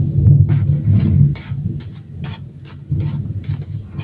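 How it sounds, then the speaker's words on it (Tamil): Thunder rumbling outdoors during a monsoon-like sky, a low continuous rolling rumble with brief louder swells, heard from a distance while indoor cooking sounds tick faintly over it. "வெளியே டம்ம டம்மா சத்தம் கேட்குதுங்க வானம் வந்து"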